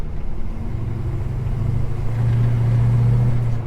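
A deep, rumbling Holden HK car engine idles and runs steadily, loud and close, its low note swelling a little toward the end.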